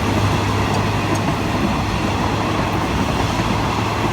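A container freight train rolls past at Nong Pla Duk railway junction in Thailand, a loud, steady rumble with faint wheel clatter throughout and no voices.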